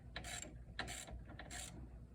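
A socket ratchet on several extensions tightens a car battery terminal on a Pontiac Solstice, giving three short bursts of quick clicking with brief pauses between them, close and fairly quiet, with no talk.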